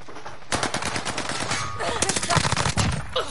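Dense, rapid automatic gunfire in the Call of Duty Vanguard video game, nearly continuous bursts of loud shots with a few brief gaps and a short lead-in before the firing starts.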